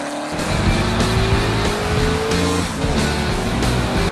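A road car corners hard on a race track, its engine roaring and its tires squealing continuously and loudly, the pitch sliding as it powers through the bend.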